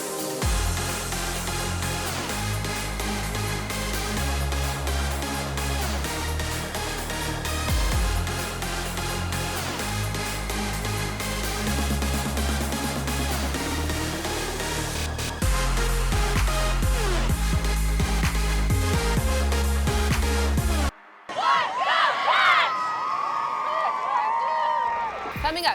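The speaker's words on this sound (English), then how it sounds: "Here's the cheer team from Los Gatos High School." Los Gatos High School cheer team performing a routine to loud, continuous music with a crowd audible throughout, broken by a brief gap near the end before a burst of cheering and whoops.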